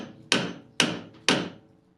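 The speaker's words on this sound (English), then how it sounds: "I'm going to try the old double hammer method and see if I can get the thing to pop out" A car ball joint on a Toyota MR2 is struck with two hammers, giving three sharp metallic blows at an even pace, each ringing briefly before the next.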